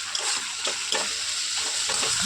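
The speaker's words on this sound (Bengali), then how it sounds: "দিয়ে মশলাটাকে আমি ভালো করে কষাতে থাকবো।" Ground cumin and coriander masala frying in oil and being stirred steadily, a continuous sizzle broken by repeated scraping strokes of a spoon in the pan.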